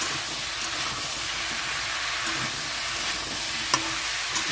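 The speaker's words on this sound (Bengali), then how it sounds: "এখন সবজিটাকে একটু নেড়ে চেড়ে চাপা দিয়ে দেবো" Malabar spinach stems cooking with a fish head in a pan, seasoned with salt and turmeric, give a steady soft sizzle and hiss while being stirred, with a few faint scrapes and clicks throughout and no voices.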